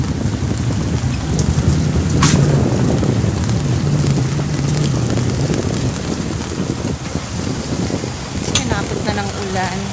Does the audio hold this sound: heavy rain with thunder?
yes